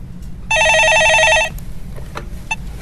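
A telephone rings once in a broadcast studio, a loud one-second electronic bell trill that stops abruptly, followed by faint background noise.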